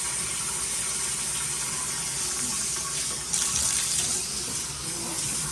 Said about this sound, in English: I'm going to adjust the water to be warm